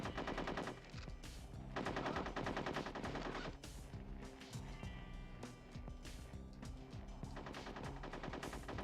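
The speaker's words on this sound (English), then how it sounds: "I hear shooting." Sustained bursts of automatic gunfire rattle almost without pause in a retro James Bond 007 video game, loud and dense, with brief gaps between volleys.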